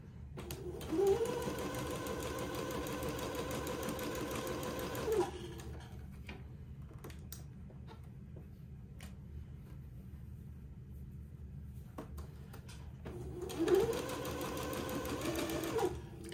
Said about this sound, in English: this will take me a minute to get both gathering threads sewn